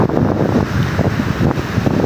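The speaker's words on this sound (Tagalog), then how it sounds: "My God, ang lakas ng hangin dito." Strong typhoon wind blows in Bohol, buffeting the microphone with a loud, continuous roaring rumble and gusty fluctuations close up, with no voices.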